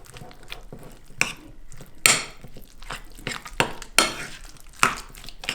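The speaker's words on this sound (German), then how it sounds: "Der Knoblauch gibt auch immer guten Geschmack. Erstmal mischen." Ingredients for a chicken breast bake with garlic are stirred in a bowl, giving irregular clinks and scrapes of a utensil against the dish, fairly close and with no talking.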